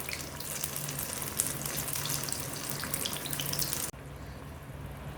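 Banana fritters frying in oil over a medium flame, giving a continuous crackling sizzle at low volume that drops sharply near the end and continues more softly.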